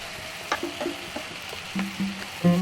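Tomato pieces sautéing in a pan for a spicy roadside-style chutney, with brief stir scrapes and soft sizzling bursts scattered over a steady low background.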